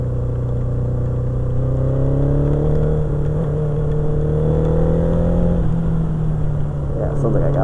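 A truck engine that seems to be misfiring drives along in the rain, its steady drone rising slowly in pitch and sounding continuous and close, with a voice talking over it.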